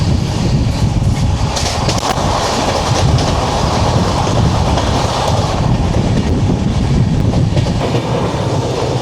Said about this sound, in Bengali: চলে আসছে 22546 দেরাদুন থেকে লখনৌ বন্দে ভারত এক্সপ্রেস।